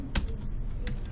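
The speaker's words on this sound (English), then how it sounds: "I'm typing more" Typing on a computer keyboard: a few distinct key clicks spaced irregularly, fairly close and moderately loud, with no voices.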